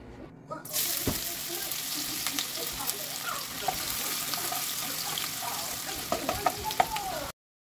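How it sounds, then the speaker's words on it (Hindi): Onions frying in hot oil in a kadai, a steady broad sizzle with scattered clicks and scrapes of stirring, fairly close and continuous after a quiet start. "ऑयल थोड़ा सा हो गया है गर्म तो अब मैं इसमें डाल दूँगी जी प्याज"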